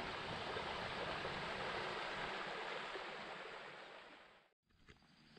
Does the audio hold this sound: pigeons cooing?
no